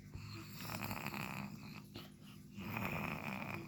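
A father snoring, or a voice imitating his snore, with rough rasping breaths that run steadily through the whole stretch, fairly quiet and close.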